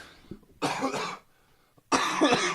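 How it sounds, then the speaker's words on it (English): A person with smoke inhalation from wildfire smoke coughs in two harsh, close bursts, each lasting about half a second, separated by a quiet pause. "There's always something making me cough, but this is bad, dude."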